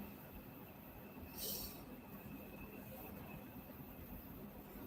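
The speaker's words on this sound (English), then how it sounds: "Can you hear the train coming?" A train approaches, with a faint, steady rumble and rail noise running under broadband background hiss and a brief louder burst partway through.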